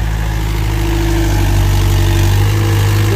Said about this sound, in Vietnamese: Cho quý vị xem nghe tiếng máy lổ một chút xíu.